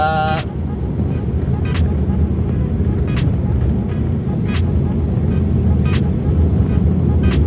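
A manual car drives in second gear through city traffic, its steady low engine and road rumble filling the cabin, with a few faint clicks and a brief tone near the start.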